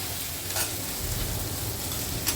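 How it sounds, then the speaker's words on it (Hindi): Potatoes fry in ghee with a steady low sizzle and a few brief stirring scrapes, heard close up with no talking. "अभी जो है आलू और थोड़ा फ्राई कर ले रही हूँ, एकदम अच्छे से थोड़ा घी में ही लाल कर ले रही हूँ"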